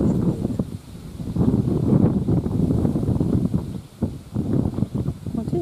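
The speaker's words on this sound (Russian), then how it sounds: "Ветер сильно поднялся." Strong gusts of wind ahead of a rainstorm in Poland buffet the microphone in a continuous low roar, rising and falling in loudness throughout.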